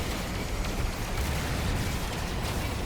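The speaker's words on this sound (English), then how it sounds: "Ooh, a couple of explosions there." Enemy ships explode in a space combat video game, a dense continuous roar of blasts and rumbling impacts that stays fairly quiet and steady through the short stretch with no distinct separate bangs.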